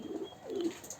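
Pigeons at a pigeon farm give soft, low cooing calls, two rounded coos in quick succession, close by and moderately loud over a faint background hiss.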